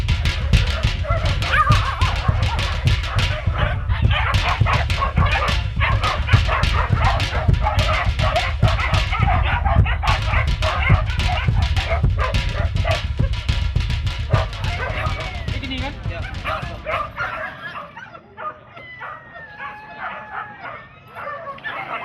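Hunting dogs bark in a dense, overlapping chorus during a wild pig hunt, with loud rapid yips and whimpers that thin out toward the end, while people talk underneath.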